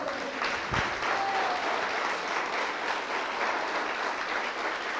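A church congregation claps for the Lord during a Sunday sermon, a dense, even wash of applause sustained throughout at moderate level.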